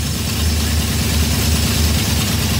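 A heavy engine with Fitech fuel injection idles high and settles down steadily with a low rumbling throb, close and continuous, no voices.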